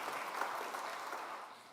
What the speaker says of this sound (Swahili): awanya Shania, tumpigie makofi mazuri